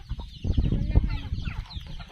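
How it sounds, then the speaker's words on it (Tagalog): A flock of chickens clucking and murmuring close by on a farm, with a steady low rumble underneath and no clear voices over it. "Ayan o, grabing manok ni Samuel. Dami o"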